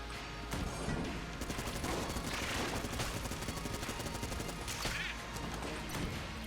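Rapid bursts of video game gunfire from Enter the Gungeon, dense overlapping shots and impacts crackling continuously throughout, loud and busy with no pauses.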